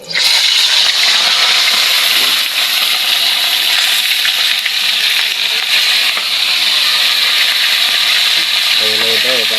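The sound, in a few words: galunggong fish dropped into hot oil, frying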